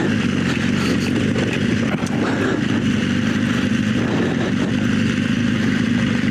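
Adventure motorcycle on Bridgestone AX41 adventure tires idling down a hill in first gear, a steady low engine rumble with wind noise, fairly close and continuous throughout.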